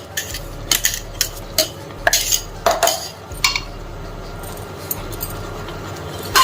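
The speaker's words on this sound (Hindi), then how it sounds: "इसको अच्छे से चला लेंगे।" A spoon clinks and scrapes against a metal bowl while ground sesame is stirred into a laddu mixture with pounded ingredients, giving irregular sharp taps and scrapes close up with no talk.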